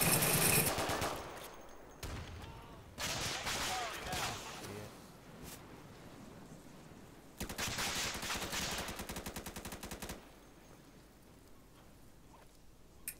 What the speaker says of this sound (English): I love when you do like so many gunshots.